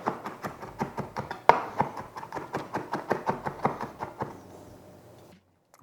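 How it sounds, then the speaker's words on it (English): A knife chops garlic cloves rapidly on a cutting board, about twenty crisp, evenly spaced strikes that slow and fade before a brief silence. "I'm going to cut up 3 cloves of garlic"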